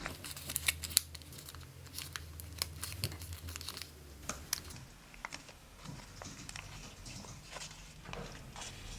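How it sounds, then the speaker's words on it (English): Paper for a Santa gift box being folded and creased by hand, a quiet series of crisp crinkles, taps and short scraping rustles close by, irregular and sparse. "Now we are going to create a fold connecting this corner to this corner,"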